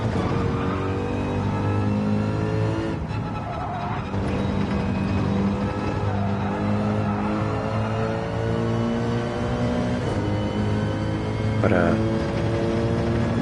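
An Alfa Romeo 4C in Gran Turismo 7 drones with a steady, strongly harmonic engine note that rises and falls through gear changes, running throughout with a brief spoken word over it.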